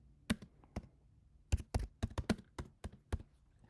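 Typing on a computer keyboard, a run of about a dozen crisp key taps in an irregular rhythm, close and fairly quiet with no talk.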